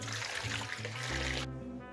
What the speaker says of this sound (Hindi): तो ये मैंने शकरकंदी ले ली है और इसके अंदर डालेंगे पानी